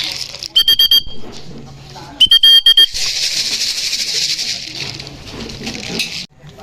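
A racing pigeon at a training and pooling loft in Sta Rosa, Laguna, startled after being caught, gives two short bursts of rapid wing-flapping with a thin whistling tone, followed by a prolonged hiss and rustling, close by.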